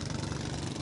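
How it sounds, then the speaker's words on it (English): Poachers' boat engines revving while anchored on a coral reef, a brief, loud, steady motor drone with a rough low rumble. "The poachers anchor their boats to the reef and then rev their engines."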